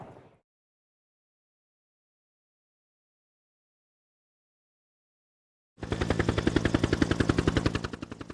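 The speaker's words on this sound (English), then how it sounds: "The helicopter here that's coming and going is American Huey 369." An American Huey helicopter, its rapid rotor chop entering abruptly after a long silence, loud and close with a steady rhythmic thudding that tapers slightly at the end.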